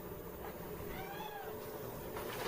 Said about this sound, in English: You can hear the little kitty.